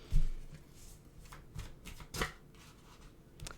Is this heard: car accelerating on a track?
no